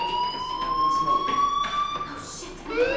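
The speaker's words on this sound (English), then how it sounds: "Hey, do you hear that fire alarm? That means you should be outside." A fire alarm sounds in the video game Life is Strange, a steady, high electronic tone that holds through a noisy school setting with voices underneath.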